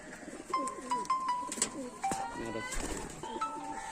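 A five-year-old domestic pigeon coos in a few short, repeated calls close by, with faint background chatter and bird sounds around it.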